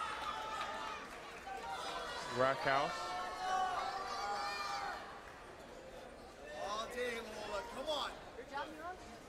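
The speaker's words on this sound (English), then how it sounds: "the crowd is going wild for Lola" A crowd cheers and shouts loudly at a teen female ninja competition stage, a steady roar of voices with bursts of yelling and whoops rising and falling, while an announcer talks over it.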